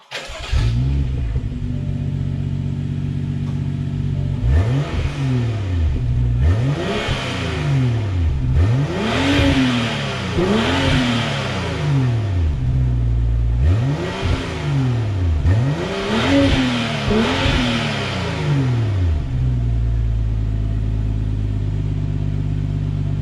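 A BMW X5 SUV engine with its exhaust valve open, revved repeatedly in a series of rising and falling pulls, some in quick pairs, loud and close against a steady idle.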